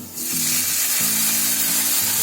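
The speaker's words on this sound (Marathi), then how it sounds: "आता त्याच्यामध्ये आहे ना पाणी टाकते." Water poured into a hot wok of fried garlic and ginger bursts into a loud, hissing sizzle that rises sharply after a quiet start and holds steady, with stirring scrapes underneath.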